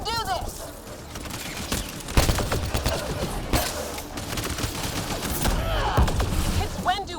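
Rapid gunfire from the video game Mass Effect Andromeda, with sharp repeated shots and thuds in a dense, busy battle mix, while a voice talks over the action.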